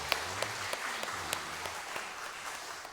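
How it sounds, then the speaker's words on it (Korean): A church congregation at a Sunday morning service in Iksan, South Korea claps in praise, sparse hand claps falling in a loose steady rhythm over a low room hum, fairly quiet and without talk. "우리 하나님께 영광의 박수 올리겠습니다."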